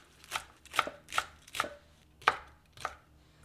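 Hot peppers chopped with a knife on a board, about six distinct close chops in an uneven rhythm over a quiet background.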